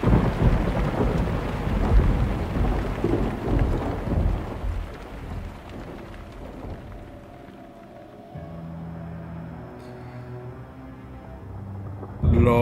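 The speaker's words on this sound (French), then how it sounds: "Il y a de la pluie." Heavy rain and rolling thunder from the video game Resident Evil 4 Remake, loud and dense at first, then easing into quieter steady rainfall with faint tonal music, before a sharp burst returns at the end.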